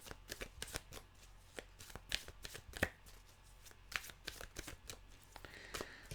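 Tarot cards being shuffled by hand in a series of crisp, rapid riffling bursts and soft slaps, close and fairly quiet, with no talking.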